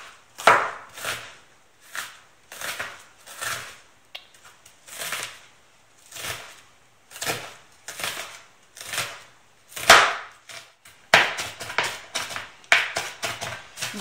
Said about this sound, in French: nous allons commencer par couper l'oignon très finement